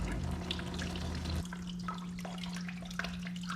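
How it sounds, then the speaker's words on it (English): Distilled water gushes out of the open radiator of a 2002-2004 Honda VTX 1800 motorcycle during a coolant flush, a steady splashing stream with a low mechanical hum underneath. "it's just shooting out that distilled water"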